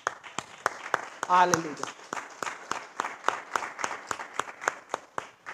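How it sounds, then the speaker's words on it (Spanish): A church congregation claps in a steady rhythmic beat, with sharp, regular claps that carry on throughout while a voice calls out briefly over them. "Regálale un fuerte aplauso a nuestro Señor"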